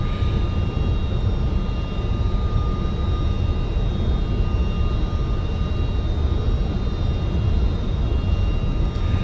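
A simulated Rotate MD-11 airliner in X-Plane 12 drones with a steady, broad engine and wind roar and a faint high whine, constant and unbroken throughout, with no voices.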